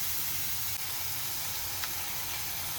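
Onion and ginger garlic paste fry in a pan for a cashew paneer masala, giving a steady, even hiss of sizzling oil with no other sounds.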